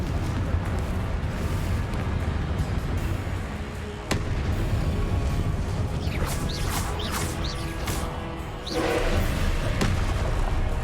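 Fiery Confringo spell blasts from Hogwarts Legacy burst over a dense, steady wash of game noise, with a sharp hit near the middle and a louder crackling flare toward the end.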